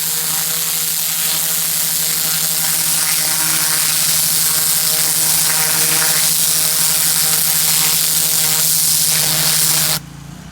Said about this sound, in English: my guys just cranked the pressure washer, and he's cutting the driveway real quick